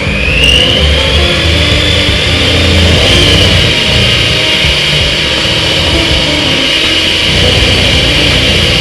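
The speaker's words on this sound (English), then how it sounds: "I am using just one of these little cheap mixers" A small, cheap handheld electric mixer whisks protein donut batter in a bowl, giving a loud, steady motor whir with grinding beater noise that runs unbroken and close throughout.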